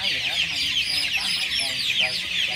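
A crowd of 24-day-old chicks peeps and clucks nearby, with dense, overlapping high chirps that rise and fall continuously over a low background hum.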